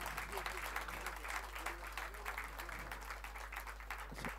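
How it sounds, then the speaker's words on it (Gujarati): An audience applauds to welcome a local performer at a sitar fusion concert, a dense, sustained clapping that holds steady and close throughout, with speech faintly underneath. "એમને આપણે ખૂબ વધારે તાળીઓથી વધાવી"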